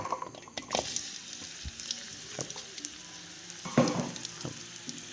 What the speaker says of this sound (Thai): ใส่น้ำมันพืชลงไปให้ร้อนแล้วก็ ตามด้วยกระเทียมครับ